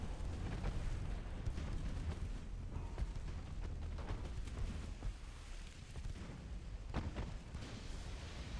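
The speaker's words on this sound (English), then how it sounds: "Massive hit and a torpedo detonation." A deep, rumbling torpedo detonation on a ship in a WWII naval strategy game, heard as sustained low booming and rolling explosion noise with a few sharper bursts, fairly faint and continuous with no talk.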